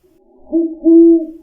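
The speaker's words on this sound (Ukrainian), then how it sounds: "Відповів їй пугач, клишоного переминаючи з лапи на лапу на незручному підвіконні." An eagle owl gives two deep, steady hoots, the second longer and louder, close and clear with no talk.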